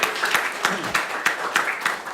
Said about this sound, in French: Applaudissons au Seigneur pour glorifier son nom.